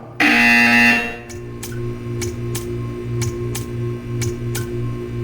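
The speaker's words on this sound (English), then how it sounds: "You will hear a buzzer." A test-chamber buzzer from the video game Portal 2, opening with a loud, sustained electronic tone, followed by a steady hum with a string of short, evenly spaced ticks.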